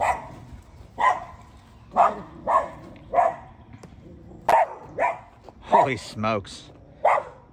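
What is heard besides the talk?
dogs barking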